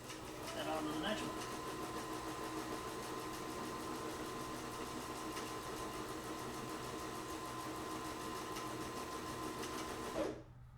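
A sewing machine flat stitching a soft-sided briefcase runs in one steady continuous whir for about ten seconds, then stops abruptly, close and even in level.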